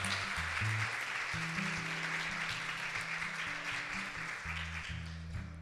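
A church congregation claps steadily in sustained applause during a prayer service, with low music playing underneath throughout.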